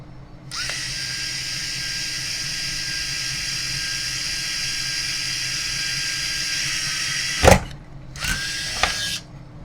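A small electric drill with a 2.5 mm bit whines steadily for several seconds while drilling a metal suspension link for an MN99s model, then stops, followed by two short bursts of drilling.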